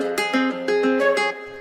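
A plucked Spanish guitar phrase with reverb added plays alone: about six close, clear notes ring out in quick succession, each decaying into a soft tail.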